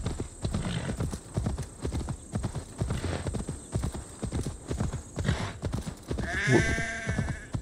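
Steady clip-clop of horse hooves on the ground during riding in Assassin's Creed Valhalla, a fast even rhythm throughout, with sheep bleating near the end.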